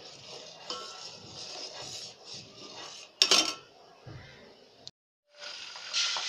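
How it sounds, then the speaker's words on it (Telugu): Butter boiling in a pan to make ghee is stirred with a utensil, giving a soft, steady sizzling hiss with scraping and a sharp metallic clink, a brief silent gap, then the simmer resumes. "వెన్న ఇలా మరుగుతుంటే దాన్ని మధ్య మధ్యలో కలుపుతూ ఉండాలి."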